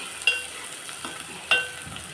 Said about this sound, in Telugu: ఇంకొంచెం ఏగుతున్నాయి చూడండి ఫ్రెండ్స్ ఎలా వేగుతున్నాయో